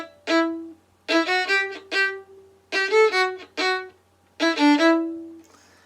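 A solo violin plays a short phrase of a film melody in separate stopped notes, near and clear, with bowed tones and brief pauses between the groups of notes and no talk.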